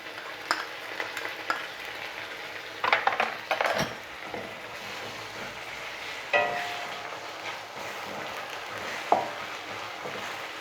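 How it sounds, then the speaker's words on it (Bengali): Ginger, garlic and chili paste frying in a pan for a chicken masala, a continuous sizzle broken by repeated scraping and clinking stirs of a spoon against the pan. "আদা রসুন ভালো করে আমি ভেজে নিয়েছি"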